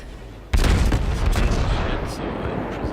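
Heavy warship guns in a World of Warships naval battle, firing a single loud, booming salvo that cuts in abruptly, then rolls into a long, rumbling decay.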